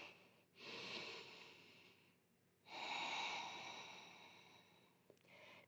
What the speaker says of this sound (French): On respire bien profondément.